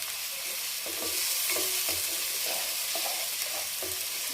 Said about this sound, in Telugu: బాగా వేగాలన్నమాట ఈ అల్లం వెల్లిపాయ పేస్ట్, లేకపోతే వాసన వచ్చిద్ది.